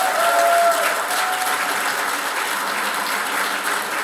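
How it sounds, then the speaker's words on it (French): Audience applause at a 2015 golf tournament awards and prize-draw gathering for the Montcalm regional municipality, a steady dense clapping that carries evenly through the whole stretch without any voices over it. "je demanderai un applaudissement pour toute l'équipe municipale que vous avez vue sur le terrain"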